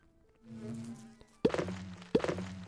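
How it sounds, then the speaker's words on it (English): Cricket chirping in the video game Minecraft, a steady buzzy trill near a campfire at night, joined by two dull thuds partway through, with no talking. "I like the cricket noises"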